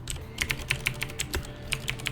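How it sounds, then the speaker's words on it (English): Loud computer keyboard typing with rapid, irregular key clacks and a few heavier strikes, close to the mic, with no talking. "sorry about my loud keyboard"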